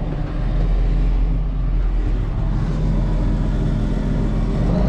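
A tractor fitted with an auger runs at steady idle on a wet-corn harvest farm, its low engine drone continuous and close, with wind noise mixed in and no one speaking.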